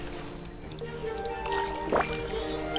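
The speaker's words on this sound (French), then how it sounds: "On va arroser tout ça." Plants being watered in the video game Disney Dreamlight Valley, a short soft splashing, gurgling water effect over a faint droning game background.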